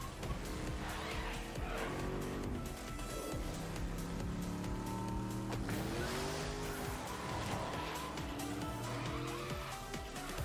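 Racing cars from the Fortnite Rocket Racing video game trailer, loud revving engines and squealing tires layered with music, a continuous dense roar with pitch sweeps as cars accelerate and skid past.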